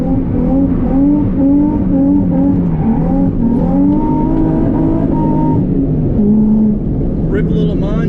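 A drift car's engine revs hard in second gear during a clutch kick, a loud steady engine drone with rising and falling rev pitch throughout, close and continuous.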